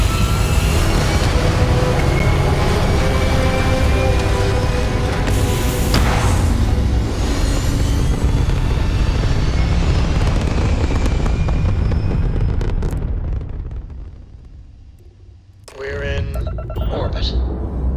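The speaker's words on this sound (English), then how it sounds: "All thrusters firing." Spaceship thrusters fire in the game Starfield with a loud, roaring blast of rushing noise that holds for about thirteen seconds, then fades and cuts to a brief quieter stretch before a burst returns.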